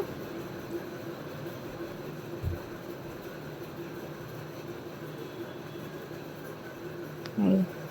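A passenger train pulling into a station, heard from near the carriage door: a steady low rumble of the moving train with a single thump partway through and a brief louder burst near the end.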